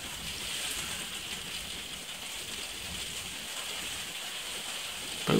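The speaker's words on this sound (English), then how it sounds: "Apologies for the rain again." Steady rain from a storm pours down, a continuous broadband hiss of drops on surfaces with no talking, ending with a brief louder burst.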